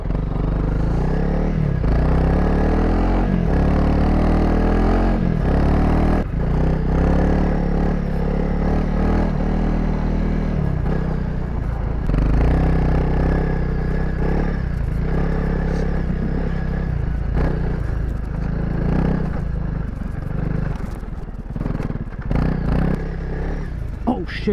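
Honda CRF300L motorcycle ridden through snow, its engine droning and revving continuously with clattering and scraping, loud and close throughout, with wind noise over the ride.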